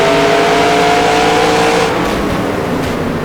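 A 1960s NASCAR truck engine in the NR2003 racing game screams loudly at high revs past the redline, its pitch holding steady before easing slightly as the drone continues without a break.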